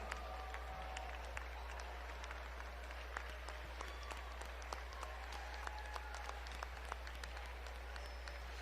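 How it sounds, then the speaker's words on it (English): Scattered, faint clapping from the audience at the 2020 Pulaski Hall of Fame ceremony, sparse and distant, over a steady low electrical hum. "Let's give all of our Hall of Fame inductees a big round of applause"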